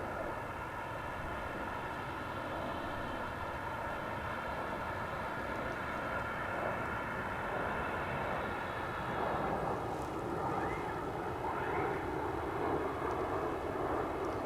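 A fixed-wing airplane at DFW Airport produces a steady, broad engine roar heard from a distance, holding fairly even throughout with a slight swell near the end and no voices.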